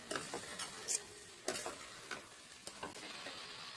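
Spicy gongura chicken curry stirred in a pan in a village-style Andhra kitchen, the spoon scraping in irregular bursts over a soft sizzle, with a few louder clinks standing out.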